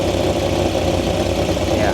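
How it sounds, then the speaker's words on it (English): Dodge Viper engine idling with a suspected exhaust leak, a loud, steady, close rumble with a faint ticking puff running through it and a voice talking over it. "I still say I hear an exhaust leak over here somewhere."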